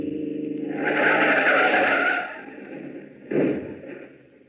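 A radio drama sound effect of a car being forced off the road into a ditch: a loud skid that swells and fades, then a brief second scrape and rumble, with no voices.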